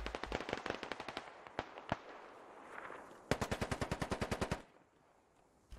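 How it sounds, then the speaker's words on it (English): Shotgun fired over and over in the video game Squad Ops: loud, sharp shots in quick bursts, mostly evenly spaced, with a short pause between volleys. "Daniel shooting the shotgun like no tomorrow"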